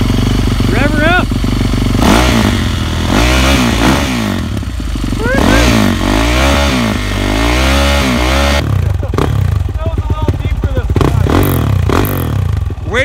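A dirt bike engine revs up and down repeatedly in loud, rising and falling sweeps, close by, with short pauses between pulls and a rougher idle at the end; people speak briefly over it.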